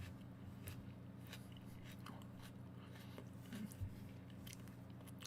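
Raw leek being chewed close to the mouth, faint repeated crunchy bites and wet chewing over a low background hum, no talking.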